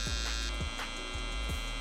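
A cheap electric hair trimmer hums steadily at close range during a self-administered haircut, its buzzing tone constant with faint rhythmic pulses and no talking.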